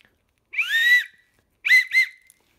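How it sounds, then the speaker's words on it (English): A survival whistle from a 5-in-1 tool, blown loud and close in two bursts: one long rising blast, then a pause and two quick short toots. "So obviously, we got the whistle."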